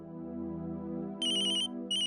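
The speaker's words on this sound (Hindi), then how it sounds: "फोन है।" An electronic phone ringtone sounds in two bursts, a longer one and then a shorter one, over a steady low drone of background music.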